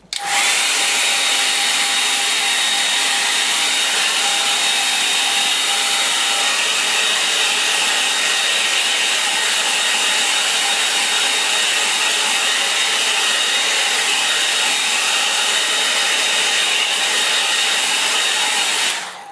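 A hair dryer blows steadily on a watercolour painting of a misty island scene, a loud continuous whooshing roar that runs unbroken for the whole stretch with no talking.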